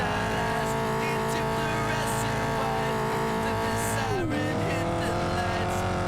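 Racing car engines roar continuously in the Test Drive: Eve of Destruction video game, a loud sustained revving drone that dips in pitch around a gear change, with faint tire squeals in the mix.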